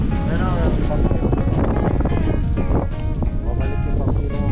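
Strong, gusty wind near the water at a boat crossing, roaring and buffeting the microphone in repeated bursts while someone talks over it.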